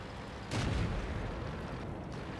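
Artillery fire in the World of Tanks video game: one heavy, booming blast lands about half a second in and trails off into a low rumble. A fainter thud follows later, over steady game noise.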